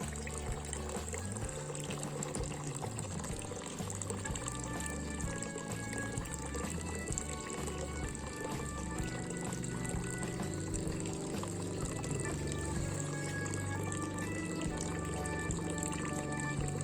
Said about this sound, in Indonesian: Saya coba akan alirkan airnya keluar.